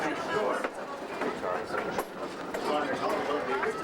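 A Mount Hood Railroad train runs along the tracks toward Parkdale in 1993, its loud, continuous rumble and rhythmic clatter filling the clip, with voices faintly mixed in.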